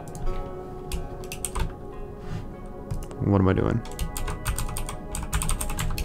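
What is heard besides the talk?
computer keyboard typing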